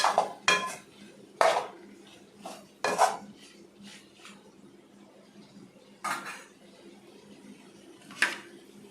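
Green chillies stirred into dhaba-style chicken in a pan: a spoon clanks and scrapes against the metal pan in irregular close taps and knocks, separated by quieter gaps with a faint background hum.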